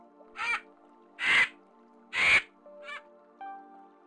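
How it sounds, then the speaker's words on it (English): A vulture gives a series of harsh, rasping calls, three loud ones spaced apart and a fainter one after, with quiet in between. "Vulture."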